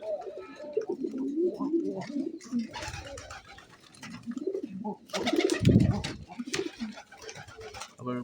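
Village pigeons, including lakkha fantail birds, coo in repeated soft rolling phrases close by, with a louder burst of cooing and fluttering partway through and no talk.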